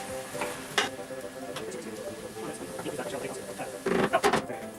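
Mushrooms and ground meat frying for chili, a close sizzle with a spoon scraping and stirring through the pan, growing louder near the end, with a voice talking over it.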